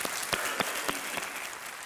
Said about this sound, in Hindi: यहाँ की जनता आपका अभिनंदन कर रही है तालियों के साथ